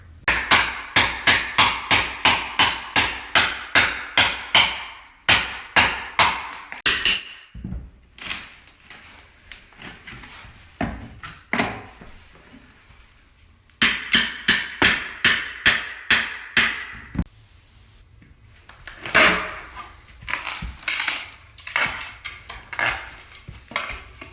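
Repeated hammer blows on trim as baseboard is pried loose during renovation, a fast run of sharp metallic strikes followed by scattered knocks and clatters, a second burst of rapid hits, then more irregular taps, close and loud with no talking.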